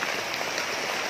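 Heavy rain falling hard, a thick, continuous rushing hiss close by, steady and loud for about a second with nothing else heard.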